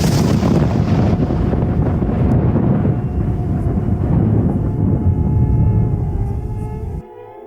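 A thunder sound effect in a horror story: a loud, dense, rumbling roar that holds steady for several seconds, then cuts off abruptly into a faint, quiet tail.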